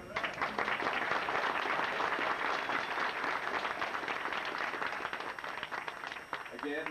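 A large Star Trek convention audience applauds loudly and steadily, dense clapping filling the whole stretch without a break.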